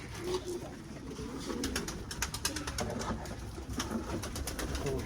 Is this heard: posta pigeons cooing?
yes